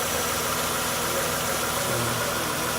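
A rebuilt 2006 Lexus IS350 engine idles steadily and close, a continuous even hum with light vibration and no breaks throughout.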